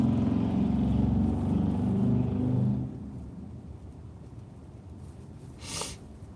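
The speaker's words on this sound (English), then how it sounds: "Very loud truck." A very loud truck roars past during a storm chase in South Dakota and Nebraska, a heavy low rumble that dominates for about three seconds and then fades to a quieter road drone.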